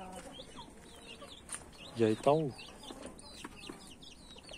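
A rooster gives a brief burst of clucking calls in the middle, close and fairly loud, with faint bird chirps around and someone speaking quietly in the background.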